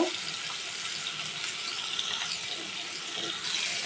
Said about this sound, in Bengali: তেলটা গরম হয়ে গেছে, আমি এখন উপর থেকে মাছগুলো দিয়ে দিচ্ছি।